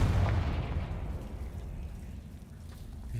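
A Confringo fire-spell blast in the video game Hogwarts Legacy: one heavy, deep boom that rolls out and slowly fades into a low rumble before a faint swell returns at the end.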